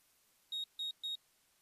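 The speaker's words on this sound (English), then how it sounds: "The VCR beeped in protest." A VCR in the Witch on the Holy Night video game gives three short, identical electronic beeps in a steady rhythm, fairly quiet and clean against a near-silent background.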